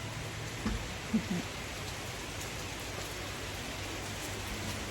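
Rain falls outside during a stop on a trip by EMU train from Luang Prabang to Vientiane, heard as a faint, even hiss with a couple of soft knocks early on.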